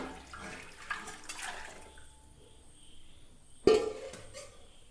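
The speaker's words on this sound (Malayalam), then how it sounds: "ആ ബാക്കി വെള്ളം കൂടെ ഒഴിച്ച് കൊടുക്കാം." Leftover water is poured into a pot of meat pidi, rice dumplings cooked with meat, landing as a sudden loud splash and gush near the end after a quieter stretch of kitchen noise.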